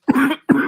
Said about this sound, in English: No, I'm actually coughing.